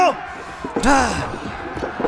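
Heavy doors slam shut in Assassin's Creed Valhalla, one loud booming impact with a rumbling tail, set among game dialogue and shouting voices around it.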